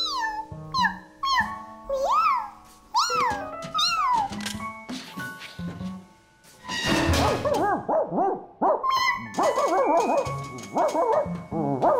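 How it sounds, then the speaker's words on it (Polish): Barking from a cartoon dog, several yaps and yips mixed with whimpers and cat-like meows, close and lively, with bursts that come and go over the twelve seconds before the sound turns busier and denser. "Szczekanie ustało."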